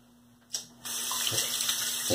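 Tap water runs into a bathroom sink while shaving, a brief splash then a steady close gush that continues to the end.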